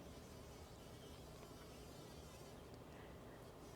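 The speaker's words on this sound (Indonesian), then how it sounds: "Ini bukan lebah madu, ini namanya bumblebee." A steady, low bumblebee buzz drones on without pause, close by in a vegetable garden, with no voices over it.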